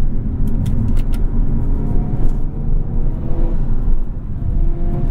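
A 2022 Hyundai Kona N drives with a loud, steady engine drone and road rumble heard from inside the cabin. Faint clicks and rattles come through now and then.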